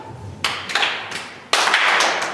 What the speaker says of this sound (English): celebrate what you just brought in with a little clap